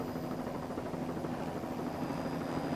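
Helicopter from East End Helicopter of Bayshore, Long Island flying over a powerboat race, a steady loud rotor and engine drone that holds constant throughout.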